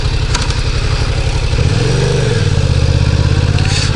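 A 2018 Yamaha MT-07 motorcycle runs close by during a test ride, its parallel-twin engine giving a loud, throbbing pulse that climbs into a brief rev midway before settling back to a steady rumble.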